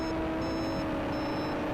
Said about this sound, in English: This thing keeps beeping like that with the camera on.